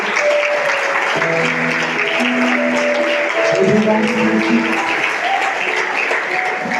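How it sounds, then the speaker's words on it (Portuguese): Church congregation applauding the Lord during a Portuguese-language service, a dense, loud, continuous wash of clapping that lasts throughout, with sustained musical tones humming underneath. "Você pode aplaudir ao Senhor."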